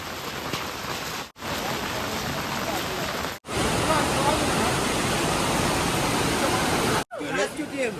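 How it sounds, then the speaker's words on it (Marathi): Heavy floodwater rushes and pours down steadily, a dense roar broken by a few brief gaps, with faint voices near the end. "बघ ना तुला पाणी पडतंय"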